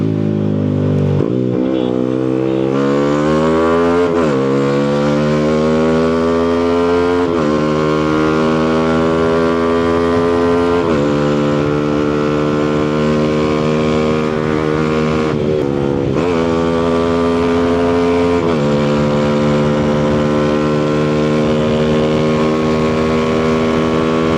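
A Yamaha Sniper 155 motorcycle with upgraded suspension and brakes runs loud and steady under ride, its 155cc engine pitch climbing through each gear, then dropping sharply at every shift, repeated several times.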